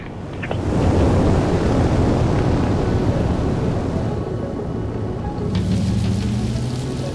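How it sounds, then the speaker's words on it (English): Rain and a rolling thunderstorm in the racing game Forza Horizon 4, with a steady wash of heavy rainfall and low rumbling thunder filling the scene before a faint tonal hum rises near the end. "Storm's coming."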